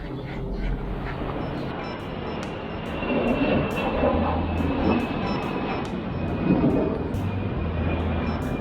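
A TAP Portuguese Airlines airplane over Cape Verde gives a steady, broad roar that swells slightly midway and holds throughout, with no voices.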